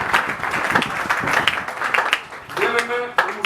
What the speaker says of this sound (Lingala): Acclamons très fort pour la parole